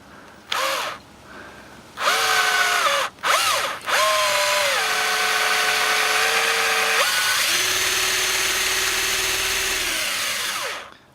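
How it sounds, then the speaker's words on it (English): A power drill bores a hole in a wooden kitchen shelf, whining in short bursts that start and stop before a long steady run with the pitch dropping under load, close and loud with no talking. "Okay, so we have our hole drilled"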